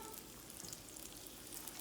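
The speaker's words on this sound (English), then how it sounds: "If it sizzles like that, then that means it's ready." Breaded food frying in a pan of hot grease at an outdoor fall harvest festival, giving a steady, dense crackling sizzle that runs evenly throughout without any talk over it.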